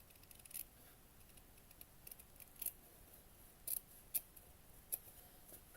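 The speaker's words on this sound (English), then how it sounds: "And then I have the first piece of fabric. Let me cut out one more piece here." Small scissors snip fabric for a miniature cat cafe room box: faint, close, crisp clicks spaced irregularly over a quiet background.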